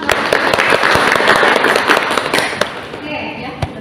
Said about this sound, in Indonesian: kita beri tepuk tangan dulu buat Pak